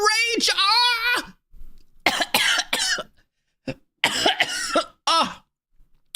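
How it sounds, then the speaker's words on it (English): A person coughs and clears their throat in a few harsh bursts between excited vocal outbursts, close and loud. "I got so raged up that I coughed."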